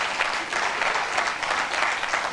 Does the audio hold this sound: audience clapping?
yes